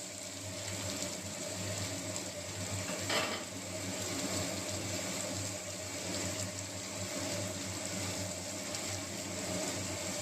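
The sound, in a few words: Bombay duck fish frying with onion in a pan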